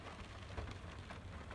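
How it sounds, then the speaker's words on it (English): Steady rain falls on an afternoon, a soft, even hiss of drops that stays faint and unbroken throughout, with no voices. "it's raining"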